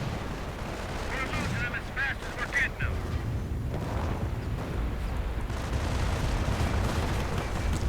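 Artillery fire in a World War II strategy video game, barrages striking anti-tank positions, with dense rumbling blasts and crackling impacts rolling continuously beneath a commentator's talk.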